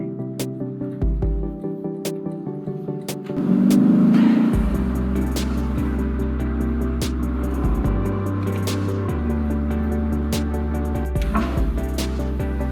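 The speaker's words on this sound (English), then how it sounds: "When you're really revving it out, this thing is just great." A 2022 Lexus LC 500 Convertible's engine revs hard on the move, a loud, sustained roar climbing and shifting through the gears, with steady tonal harmonics and no talking over it.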